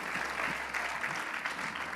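Church congregation applauding during a Wednesday prayer service, a steady, full wash of many hands clapping with a faint low hum beneath, sustained without a break.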